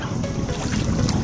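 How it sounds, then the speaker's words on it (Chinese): Strong wind roars steadily across the microphone while sea fishing from a windy spot, a dense, unbroken rush with no voices. "这风先生听得爽不爽？"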